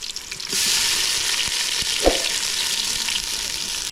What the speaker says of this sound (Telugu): ముందుగా ఆడించుకున్న ఉల్లిపాయ ముద్ద చూసారు, చూడండి వేస్తున్నా